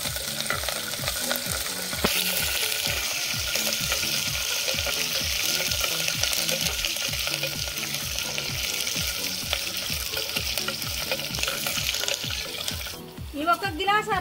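Green chillies and curry leaves frying in hot oil give a steady, loud sizzle, with a repeated low scraping rhythm of stirring throughout, then a brief clatter near the end.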